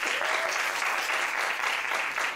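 A stand-up comedy audience applauds continuously, a dense, even wash of many clapping hands filling the room from start to finish with no pauses.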